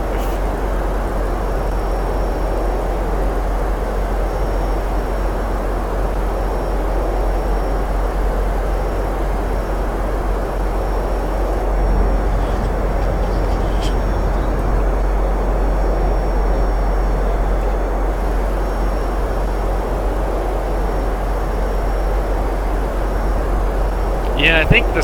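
The engine of a Boeing 767F cargo aircraft in X-Plane 11 drones loudly and steadily as a looping roar for the whole stretch, with a slight shift partway through.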